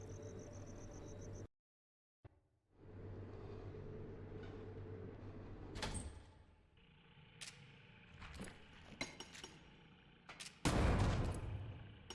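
Elevator ride in the survival-horror game Crow Country: a steady low mechanical rumble of the moving car, broken by a short silent gap, then clanks and thumps, with a loud rattling burst near the end.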